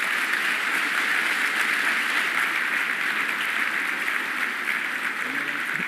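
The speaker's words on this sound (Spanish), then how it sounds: "Un aplauso" A congress audience breaks into sustained applause after a speaker finishes, loud, dense and continuous clapping filling the room with no voices on top.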